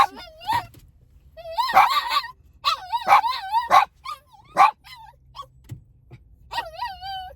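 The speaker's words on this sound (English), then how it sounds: "Excuse me, the puppies." Puppies yip and whimper in high, wavering cries, several short barks and whines overlapping close by, with some low background noise.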